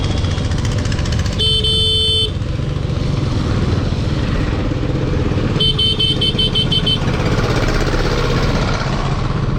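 A motorcycle rides a wet, muddy road on the route from Rangamati to Chittagong, its close engine droning steadily, broken by two bursts of horn honking.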